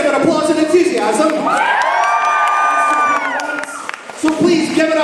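A convention audience at the Glasgow Comic Con 2019 cosplay competition and masquerade cheers loudly. Shouts, whoops and a long high-pitched yell rise over the clapping, and a voice is heard in the crowd noise.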